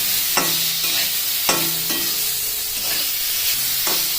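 Black cumin seeds sizzle in hot oil for a Bengali bhorta, a steady loud frying hiss broken by a few sharp scraping stirs, with no voices.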